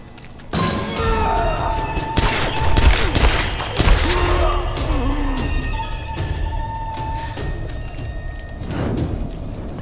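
Rifle fire set to three-round burst in the Tomb Raider video game, with loud clustered bursts of gunshots and impacts over busy in-game ambience and music, lasting most of the clip.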